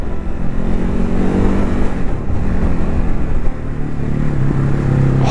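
A Ducati 950 Hypermotard engine rumbles steadily while riding, with a throaty exhaust note and faint popping toward the end, heard close with rushing wind.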